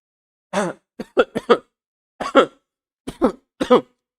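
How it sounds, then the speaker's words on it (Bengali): A person coughs in a series of sharp, close bursts, some single and some in quick pairs or triplets, separated by short silences. "প্রশ্নটা আসার সাথে সাথে আমার কাশি এসে গেল"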